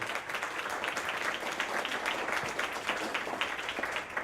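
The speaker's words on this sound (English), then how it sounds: "Let's give them a round of applause, really." Applause from a small audience at a community meeting with a state revenue commissioner, a steady patter of hand claps at moderate level throughout with no break.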